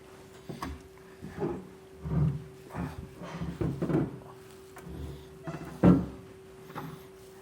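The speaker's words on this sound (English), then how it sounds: "So now we'll carefully put our rail in place." A B&W Patriot 5th wheel trailer hitch rail is set in place in a truck bed, giving a series of scattered metallic thunks and knocks of varying loudness, with one sharper clank near the end.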